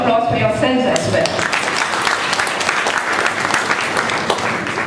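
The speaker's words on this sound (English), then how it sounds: "So round of applause for yourselves as well." A school talent show audience claps steadily throughout, a dense sustained round of applause, with a few faint voices at the very start.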